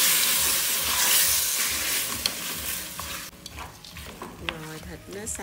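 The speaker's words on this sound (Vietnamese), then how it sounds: "Rồi mình đi xào cho thịt nước xong lên nhé." Marinated meat is stir-fried in a pan for a mushroom hot pot, a strong close sizzle that eases after a few seconds while utensil clicks and scrapes tap through it.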